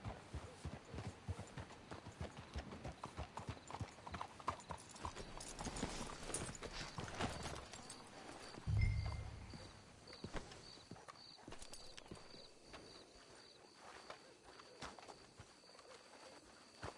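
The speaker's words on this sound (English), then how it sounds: "Let's hitch the horses up ahead." Horse hooves clip-clop at a steady walking pace in Red Dead Redemption 2, fairly quiet and continuous, with a brief louder thump and faint creaking tack partway through.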